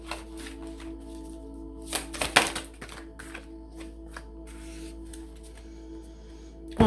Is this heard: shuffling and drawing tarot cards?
yes